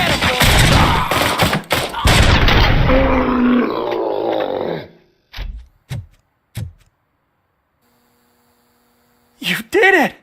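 Heavy gunfire in the Robocop video game, a loud sustained barrage over a humming roar for several seconds, followed by a few isolated short bursts and then near silence.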